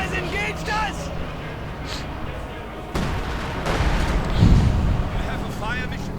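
An incendiary artillery barrage lands in a World War II strategy game as a rumbling cluster of distant booms and crackling impacts, heard under continuous commentary.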